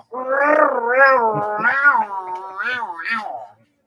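Female cat in heat meowing loudly and insistently, a long drawn-out wavering yowl broken into several rising and falling calls, close and clear with nothing else around it.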